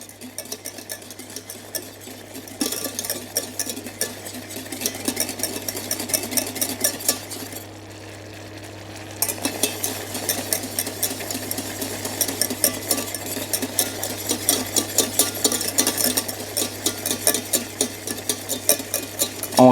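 A boiling mixture for a peach tart is stirred nonstop in a saucepan, the spoon scraping and clinking against the pan in steady rapid strokes over a low constant hum, pausing briefly midway.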